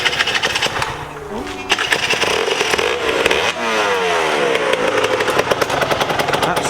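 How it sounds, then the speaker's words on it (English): An Aprilia RS 125 two-stroke motorcycle engine revs loudly and close by, with rising and falling pitch sweeps as the throttle is blipped repeatedly over a steady buzzing idle. "his beautiful Aprilia RS 125 two-stroke"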